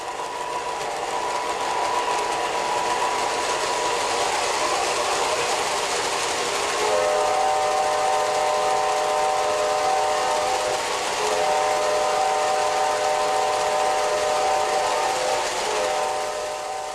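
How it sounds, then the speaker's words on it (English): Lionel toy GE diesel locomotive in Southern Pacific colors running on track, a steady whirring rumble with a sustained horn-like tone joining partway through, close and continuous without talk. "This is the GE-9, painted in the colors of the Southern Pacific."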